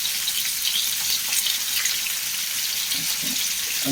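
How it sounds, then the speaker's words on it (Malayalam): Small sardines frying in hot rice bran oil, a dense steady sizzle with fine crackling pops, close and continuous, with no voices. "അപ്പോൾ അതൊന്ന് വറുത്തെടുക്കാം"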